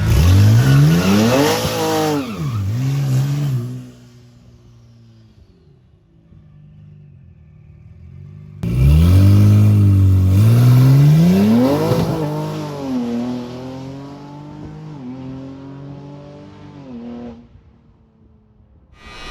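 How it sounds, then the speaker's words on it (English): A car with a swapped Hurricane engine launches under boost: a loud engine roar climbs and falls as it spools, cuts off, then returns with another rising howl that fades into a lower rumble as the car pulls away. "You can see it comes up on boost and starts moving once it makes the boost."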